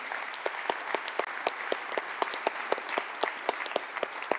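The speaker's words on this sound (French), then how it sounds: "Donc, on peut les applaudir." Audience applause after a talk at a tech conference, a steady patter of many hands clapping with sharp individual claps standing out, moderately loud and sustained throughout.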